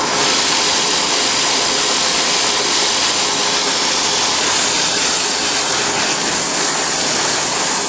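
A CNC machine cuts a Bradley GT II tilt hinge, a loud, steady broadband roar of spindle and coolant hiss that runs unbroken and alone throughout.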